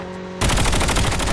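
After a brief quiet hum, a loud, close burst of rapid automatic gunfire erupts in a multiplayer shooter game and continues steadily to the end.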